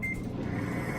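A heated blender sounds a steady electronic beep tone prompting the cook to add an ingredient while making beer cheese, held over a low background hum, no voices.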